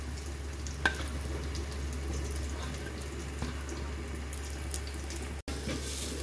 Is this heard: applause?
no